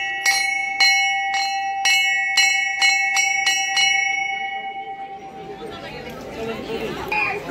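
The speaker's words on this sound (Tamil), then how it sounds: "நல்ல ஒரு மணி உண்டு." A temple bell at Shri Shiva Mandir in Sydney rings in a series of about eight bright, resonant strikes with lingering tones, then fades as people chatter and move about nearby.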